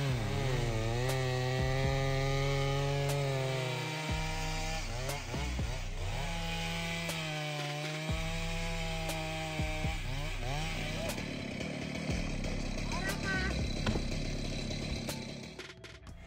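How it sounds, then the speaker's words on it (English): A Stihl MS881 chainsaw cuts down an old, decades-old tree at height, its engine droning steadily and rising and dipping in pitch as the bar bites into the wood. "Workers are cutting down a decades-old tree using a Style MS881 chainsaw."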